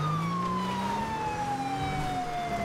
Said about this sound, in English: i'm gonna go ahead and kill my siren